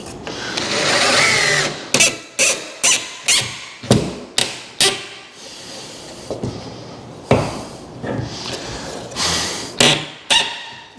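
A power drill bores into a wall during hole patching in short, repeated whirring bursts separated by brief pauses, one longer run at the start.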